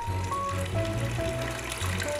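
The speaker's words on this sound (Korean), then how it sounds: "청아한 물소리 들리시나요?" Water trickles and splashes into a Corten steel basin inside a greenhouse, a continuous gentle falling stream with light bubbling tones, close and moderately quiet, with no talk.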